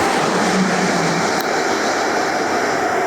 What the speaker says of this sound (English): Apologies while a fast train goes through.